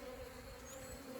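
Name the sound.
honey bees buzzing around a nuc hive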